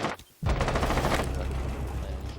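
Gunfire in a competitive console shooter match, a brief dip and then a dense, loud, sustained barrage of rapid shots filling the rest of the moment.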